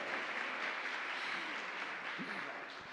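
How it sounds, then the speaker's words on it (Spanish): Festival audience applauds after a talk, steady dense clapping from a crowd sustained throughout, slightly distant and room-filled, with no voices over it. "Um aplauso para Lucas Ribeiro."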